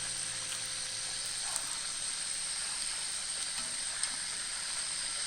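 A pork chop fries in hot oil in a pan, giving a steady, even sizzling hiss that runs unbroken throughout at moderate level, with a couple of faint pops.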